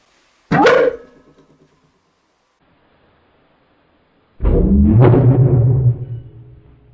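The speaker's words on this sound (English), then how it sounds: "a bright flash occurs, and so-called dog barking" A carbon disulfide and nitric oxide mixture ignites in a cylinder with a sharp, loud whoosh-pop, then after a few seconds of quiet a second, longer barking roar that fades out.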